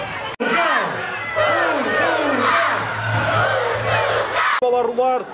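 Stadium crowd at a friendly football match between Portugal and Switzerland, roaring and cheering loudly and steadily for several seconds, with a drawn-out chant rising and falling over the din before a brief sharper burst near the end.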